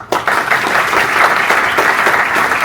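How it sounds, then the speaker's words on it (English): Audience in a Mumbai college hall claps steadily and loudly for about three seconds after a lecture at a National Education Day event, a dense, even wash of hands with no break. "Now sincerely clap."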